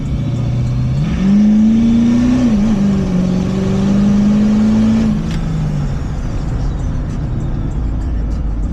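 An LB7 Duramax truck pulls hard from inside the cab, with a loud steady engine drone rising in pitch, dipping briefly at a shift, then falling away as the run eases off; no talk is heard.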